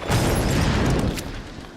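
Rapid pistol fire in Tomb Raider, a dense, loud cluster of quick shots packed into under two seconds, tailing off slightly at the end.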